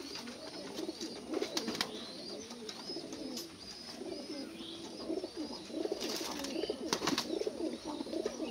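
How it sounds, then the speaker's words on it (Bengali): Racing pigeons in moult cooing in a loft, repeated soft rolling coos close by, layered over each other with a steady background hum. "মল্টিং এ আছে কবুতরটা"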